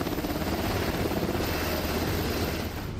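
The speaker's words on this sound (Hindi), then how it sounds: "इसके बाद ब्लैक हॉक हेलीकॉप्टर भी स्पेशल फोर्स को लहरों के पास उतारता है।" A Black Hawk helicopter sets down special forces near the waves during a beach landing, its rotor and engine producing a loud, steady, dense roar that fills the whole stretch without a break.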